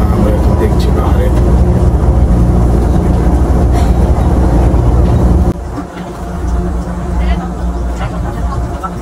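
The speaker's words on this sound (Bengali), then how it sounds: "আমাদের এই ট্রেনটা এখন যাওয়া শুরু করেছে" Haramain high-speed train pulling away on the Madinah to Makkah line, a loud steady interior rumble and whoosh that drops to a quieter hum partway through, with voices and an onboard announcement over it.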